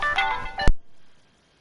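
A phone ringtone plays a short melodic chime for about half a second, then cuts off abruptly with a click and goes quiet.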